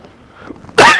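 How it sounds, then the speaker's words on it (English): A single sudden, loud, close cough bursts out at the very end after near silence, sounding almost like a sneeze. "Coughing at you."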